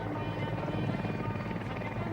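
Mi-24 Hind military helicopter producing a loud, steady, pulsing rotor and turbine roar that fills the whole stretch without a break.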